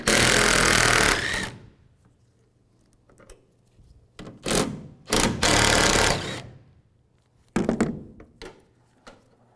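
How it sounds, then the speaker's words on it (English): A 13mm socket wrench removes the tailgate bolts on a 2007-2013 Chevrolet Silverado 1500, heard as loud bursts of rapid ratcheting or power-driver whirring broken by metallic clunks and quiet gaps. "Using a 13mm socket, take these 2 bolts out."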